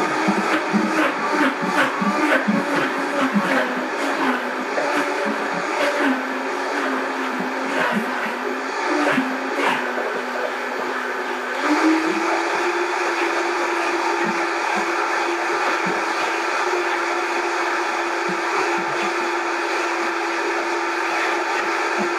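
A blender runs continuously for over twenty seconds, crushing unfrozen watermelon cubes for a peppered smoothie. It makes a loud, close, steady whirring drone that shifts up in pitch partway through as the load eases, with no voices.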